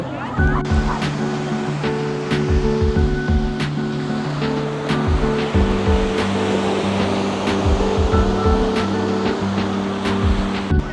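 Ocean waves wash onto Gwangalli Beach in Busan, a crescent-shaped stretch of fine sand. The surf makes a loud, continuous roar with steady background tones and faint voices mixed in.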